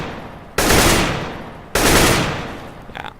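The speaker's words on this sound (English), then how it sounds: "you also can't shoot bursts of 3 bullets now" Two sharp bursts of AK rifle fire in CS:GO, each a loud, clipped rattle that fades over about a second, followed by a few faint, quick clicks at the end.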